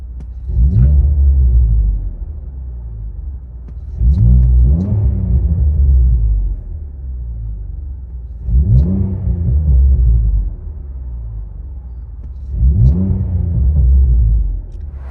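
Inside the cabin of a Lincoln MKZ V6 fitted with a Magnaflow exhaust, four deep revs surge and fall back to a muffled, low idle rumble, each burst booming and bass-heavy.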